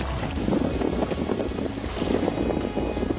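Wind buffeting a microphone out on the water during float tube fishing, a steady loud rumbling roar that holds throughout with no voices.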